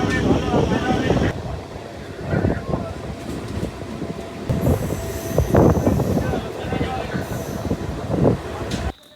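A train pulls into a station with rumbling wagons and squealing wheels, a loud, uneven clatter rising and falling as it slows, with brief voices mixed in.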